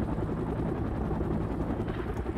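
Helicopter rotors from the World in Conflict video game chop in a steady, dense low rumble that fills the whole stretch without letup, loud and close with no talking over it.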